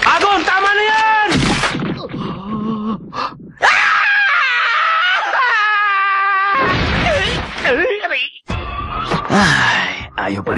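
A character in a Tagalog-dubbed EyeShield 21 anime episode screams and wails in pain over an injured arm, drawn-out strained cries broken by brief gasps and pauses, loud and close throughout.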